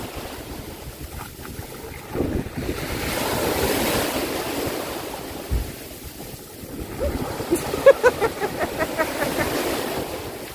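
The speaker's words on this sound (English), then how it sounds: "The sea rough today." Rough sea surf churns and crashes continuously at a beach in Montego Bay, Jamaica, with wind buffeting the microphone and a brief burst of rapid knocking near the end.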